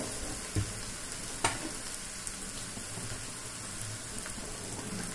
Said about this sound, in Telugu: ఇట్లా బీరకాయ ముక్కలు వేసేసుకోండి.